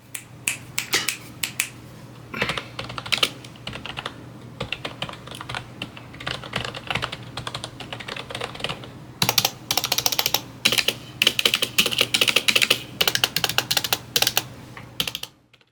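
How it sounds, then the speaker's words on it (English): Rapid, clicky typing on a Redragon Shiva membrane keyboard, close up, in uneven bursts with short pauses, growing denser and louder in the second half. "even though it's a membrane keyboard like the Aditya, it does sound a bit better"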